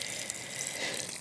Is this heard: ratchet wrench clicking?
no